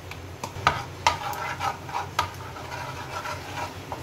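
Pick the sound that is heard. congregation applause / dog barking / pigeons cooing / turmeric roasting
turmeric roasting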